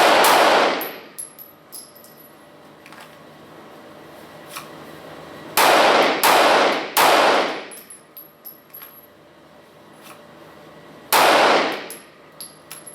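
Four loud, sharp 9mm pistol shots from a Glock 43 or M&P Shield ring out during up-look press drills, spaced irregularly with quiet gaps and metallic clinks between them.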